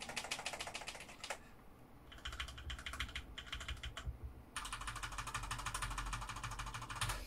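Hard, rapid typing on an ASUS rubber-membrane gaming keyboard with a wrist rest, a dense clattering stream of keystrokes with brief pauses, then a sustained louder burst, close and without speech.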